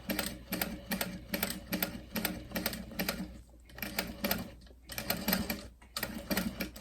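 A sewing machine stitches fabric for a picture frame, running in quick rhythmic bursts of needle chatter with short pauses between runs, close and fairly loud with no talking.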